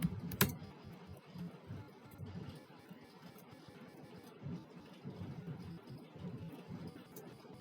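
Steady, fairly soft clatter of fingers typing on a computer keyboard, continuous and close, with one sharp louder click near the start and no speech.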